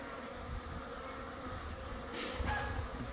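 A honeybee swarm on a farm gives off a low, continuous buzzing drone, with a slightly louder surge of wings and movement near the end.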